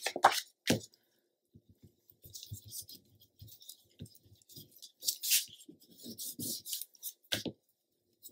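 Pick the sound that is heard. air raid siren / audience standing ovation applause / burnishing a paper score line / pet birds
burnishing a paper score line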